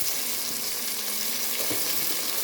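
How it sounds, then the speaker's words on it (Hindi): Chicken with red chili powder and dried coriander powder frying in a pan, a steady close sizzle running throughout with faint scraping partway through. "अब इसको हम अच्छे से भून लेंगे"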